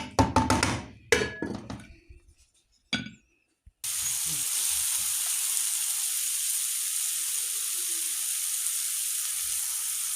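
Stuffed savory flatbread, filled with pumpkin, sizzles steadily on a hot pan after a few sharp clinks and taps of handling, the frying hiss loud, close and unbroken.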